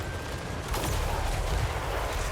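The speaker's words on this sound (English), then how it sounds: "A little bit more gunfire of various kinds, or ordnance" Gunfire and artillery ordnance thunder across a Total War: Warhammer 3 battlefield, a steady low rumble of overlapping distant shots and blasts that swells noticeably about a third of the way in and stays dense to the end.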